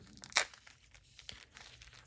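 A clear plastic sleeve torn open by hand in one quick, sharp rip that stands out near and loud against a quiet room, followed by a few faint crinkles.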